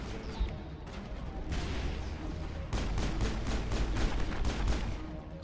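Weapon fire crashes through a Mass Effect firefight, a sustained barrage with a run of rapid, evenly spaced heavy blasts toward the end, loud and close.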